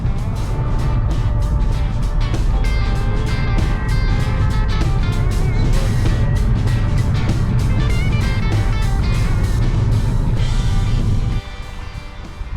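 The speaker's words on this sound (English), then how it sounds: "This is all traffic coming back from Doon from a long weekend over Easter." Heavy Easter long-weekend road traffic streams past a moving Kia Rio GT on the road near Bonnie Doon, a steady loud engine and road rumble with repeated swishes of passing vehicles, easing slightly near the end.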